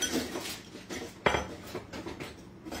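Berry compote in a pot is stirred with a utensil, giving close scraping and a sharp clink against the pot's side, with soft, uneven stirring sounds around it and no voices.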